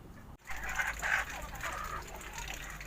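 Chickens cluck in a rooftop coop, a hen restless and pacing, with several close, loud bursts of clucking early on that soften into quieter, scattered calls against low background noise.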